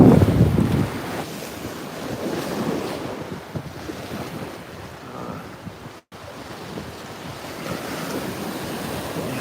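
Waves break on a Cancun beach strewn with seaweed, with surges of surf and strong wind buffeting the microphone, loudest at the start and a brief dropout midway.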